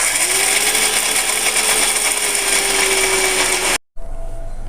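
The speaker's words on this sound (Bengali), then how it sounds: "তো আমি এখানে মিক্সার গ্রাইন্ডারে কাজু বাদামগুলো আমি পেস্ট নিচ্ছি।" A mixer grinder whirs loudly and steadily as it grinds cashew nuts into a paste for homemade kulfi, running continuously before cutting off abruptly near the end.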